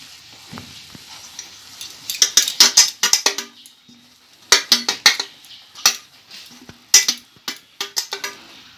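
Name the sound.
greasing a metal plate with oil before pouring raw mango mixture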